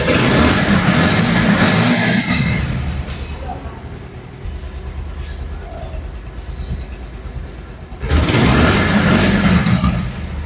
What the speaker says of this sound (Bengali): দেখুন গাড়ির সাউন্ড কিন্তু একদম first class super fresh condition sound